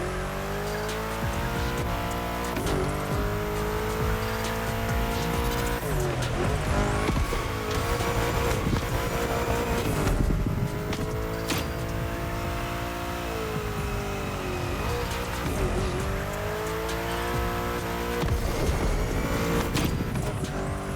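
A car drifts through bends in The Crew Motorfest, its engine revving and dropping steadily while tires squeal through the turns. The sound is loud and continuous, with music and no voices.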